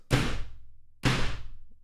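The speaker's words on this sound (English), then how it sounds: "would they be up at that time thumping and dropping heavy shit?" Two heavy booming thumps from an upstairs neighbour, about a second apart, each with a long dull rumble and ringing decay, muffled through the ceiling.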